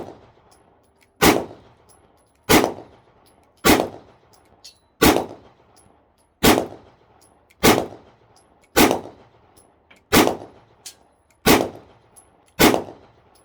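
Ten sharp, loud gunshots from a Taurus G2C compact .45 pistol, fired one at a time at a slow, steady pace of roughly one shot every 1.3 seconds, each crack ringing briefly before the next.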